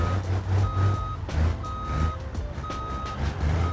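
A big tow truck in the BeamNG driving game backs up with a loud, close electronic backup alarm beeping in a steady repeating pattern over a low diesel engine rumble.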